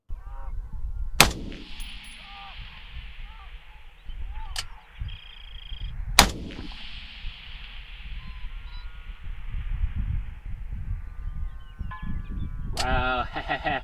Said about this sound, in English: So the first shot, I kind of cut the wind a little bit, saw it hit just off to the right